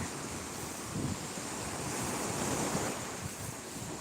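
Sea waves rolling onto the sandy beach at Akçay shore in Terme, Samsun, a continuous soft roar of surf mixed with gusting wind buffeting the microphone, with no voices.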